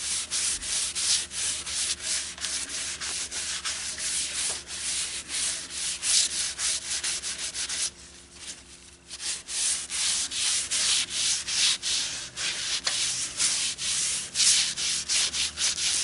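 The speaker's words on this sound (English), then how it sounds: "that should be good enough for the final sand" Steady, continuous sanding of a turned wooden bowl spinning on a lathe, loud and close, with one brief pause partway through before the rubbing resumes.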